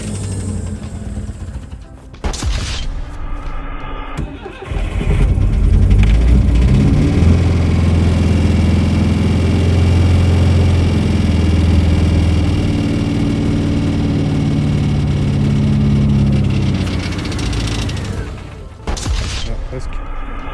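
An old Citroën GSA turns over and starts, then settles into a loud, rough idle with a deep rumbling drone that holds steady for most of the stretch before cutting out near the end.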